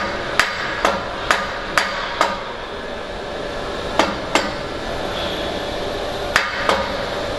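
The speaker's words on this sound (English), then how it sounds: "I use like a deadfall kind of hammer, just so it's got a lot of force in it without damaging the face of the flange" A deadfall hammer taps a steel pipe flange to level it during pipe fabrication: sharp metallic knocks in irregular clusters of two to five, close and loud, with short pauses between groups and no talking.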